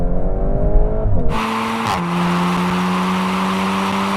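Volkswagen Golf R cars launching hard in a drag race from 50 km/h in second gear, a loud sustained engine roar rising in pitch, a quick gearshift drop, then a steady high drone.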